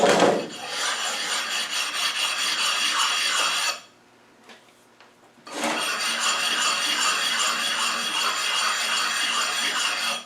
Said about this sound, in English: we'll take our oil stone, just run it over to take any burrs off or eye spots